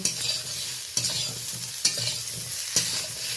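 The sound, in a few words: stirring fried pointed gourd in a pan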